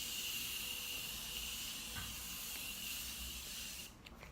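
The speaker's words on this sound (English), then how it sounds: "We're gonna use the MORPHE setting spray." Morphe setting spray mists out in a steady, close hiss that runs for about four seconds and then cuts off.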